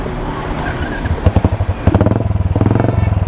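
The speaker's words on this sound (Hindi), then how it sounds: "रेव मारो रेव मारो रेव मारो" A motorcycle engine revs up close, rough idle giving way to rapid throttle blips and a fast pulsing exhaust rattle that grows louder toward the end.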